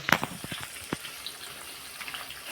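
Jackfruit chips fry in hot oil after salted water has been added, making a soft, steady sizzle with scattered crackles and pops.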